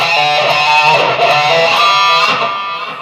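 A loud, distorted electric guitar lick from a solo sustains bright and saturated for about three seconds, close and alone, fading slightly at the end.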